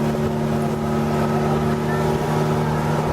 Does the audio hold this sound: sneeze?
no